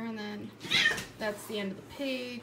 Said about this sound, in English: Excuse the cats.